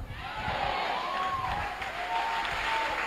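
A congregation at a church sermon applauds, making a dense, even wash of clapping that holds steady for a few seconds without pause.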